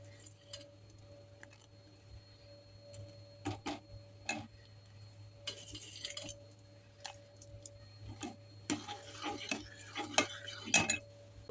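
A spoon stirs makhana kheer with dry fruits in a pot over a low flame, giving intermittent scraping and clinking taps against the metal, sparse at first and then busier near the end, over a steady low hum.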